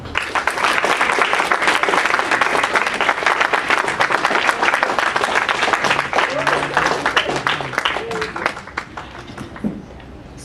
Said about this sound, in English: give your parents and support people a huge round of applause